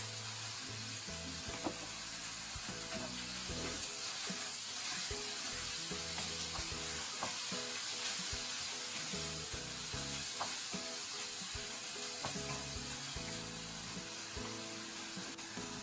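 Shredded cabbage stir-fries with soy sauce in a wok for a noodle soup, giving a continuous, steady sizzle with scattered scraping and clinks from stirring, close but quiet, with no talking.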